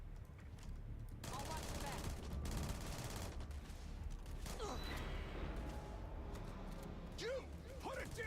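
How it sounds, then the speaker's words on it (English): Assault rifle fire in a sci-fi role-playing video game comes in rapid bursts mixed with game effects and loud ambient noise, with a voice speaking over parts of it. "Assault rifle."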